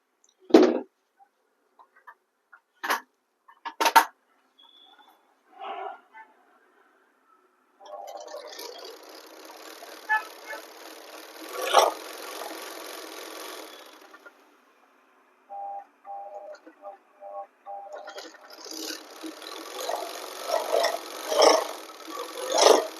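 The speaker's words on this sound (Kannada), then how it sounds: "ಒಂದು ನಿಮಿಷ ಓರ್ಲಾಕ್ ಹೊಡ್ಕೊತೀನಿ" An overlock sewing machine stitches pant fabric in bursts of steady mechanical whirring, with brief starts and stops and a few clicks and taps between runs.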